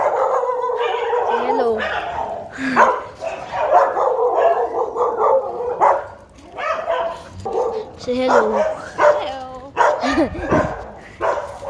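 A dog barks and yips repeatedly in short bursts at close range, with whimpering between barks, while a person talks over and around it.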